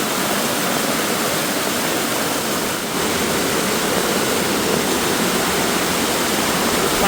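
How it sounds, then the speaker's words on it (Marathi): Fast-flowing forest stream at night, where crabs are being hunted, makes a constant loud rushing roar throughout, alone with no voices. "पाणी जरा जास्त वाहतं आहे"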